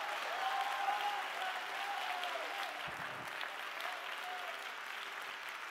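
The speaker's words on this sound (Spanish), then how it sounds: "Dale un fuerte aplauso y alábale al Señor con todas sus fuerzas." A church congregation gives steady, sustained applause in praise, a dense even wash of clapping filling the room, with faint voices rising within it.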